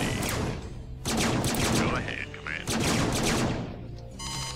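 Rapid bursts of gunfire from the StarCraft Terran campaign as forces come under attack, dense loud volleys with short gaps, mixed with game effects and a brief spoken line.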